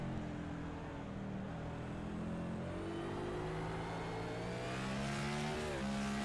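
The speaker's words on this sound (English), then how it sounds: "You hear those tires slipping as he tries to get on the throttle" Race car engines roar continuously at Sonoma Raceway, a rising whine of revs as one car's tires slip under throttle, with several cars droning together in a dense, loud wash.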